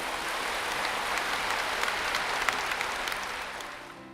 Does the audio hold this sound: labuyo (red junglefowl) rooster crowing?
no